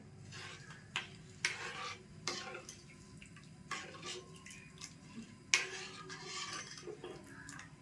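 A spoon stirs jaggery in water in a pot, making quiet scattered clinks and scrapes against the metal with soft sloshing between, fairly close and without talk.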